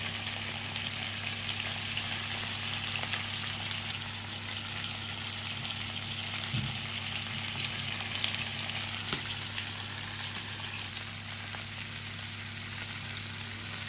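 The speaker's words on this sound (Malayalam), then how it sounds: "ഫ്രൈ ചെയ്തെടുക്കാം" Fish fries in a pan over a low flame, giving a steady, moderate sizzle that goes on without a break, with a few faint knocks and stirring sounds and no voices.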